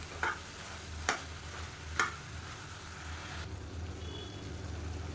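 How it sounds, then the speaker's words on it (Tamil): Steady sizzling of chicken sautéing in a pan for chicken varuval, with three spatula scrapes at regular intervals early on, then an even hiss. "சேர்த்துட்டு நல்லா வதக்கி விட்டுக்கலாம்."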